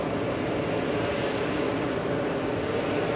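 A Qatar Airways airliner in oneworld livery, flying in from Doha, drones steadily on final approach into JFK airport, a constant broad engine roar with no talking.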